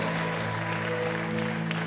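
A congregation applauds during a church service, with steady, dense clapping holding for the whole stretch over low, sustained droning tones.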